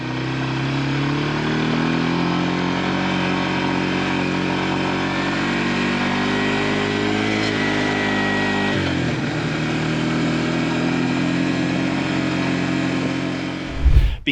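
A quad ATV hauling a bucket of rock drives back toward a truck on a mountain track, its mid-pitched engine droning steadily and loud for the whole stretch before cutting off abruptly at the end.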